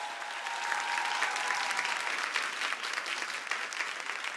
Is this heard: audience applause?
yes